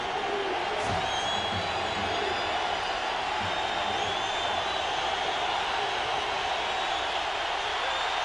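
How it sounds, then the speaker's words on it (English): Large stadium crowd at an NFL game between the Washington Redskins and San Diego Chargers, a dense, steady roar filling the whole stretch with a faint rhythmic chant woven in, loud and constant throughout. "The crowd chanting defense."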